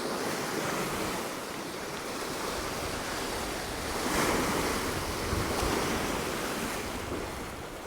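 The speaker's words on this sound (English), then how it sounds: "Just in this little corner in this bay, it's just a few waves coming in." Sea waves roll in on the shore of a small bay near Cromer, a continuous near wash of surf that swells slightly midway, mixed with gusty wind noise on the microphone.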